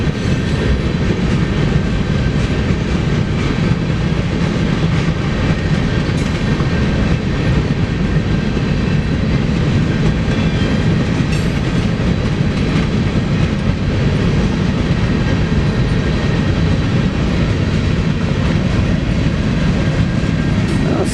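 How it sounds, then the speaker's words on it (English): BNSF Railway freight train, engine 6107, eastbound off Napa Street in Spokane, Washington, passing close by with a steady loud rumble and rolling wheel noise throughout, no talk. "See if we can get this train over here."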